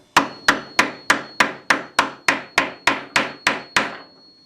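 About a dozen sharp hammer taps at an even, quick pace, close and loud, each ringing briefly, as a radius caul is tapped down to seat frets into a guitar fretboard.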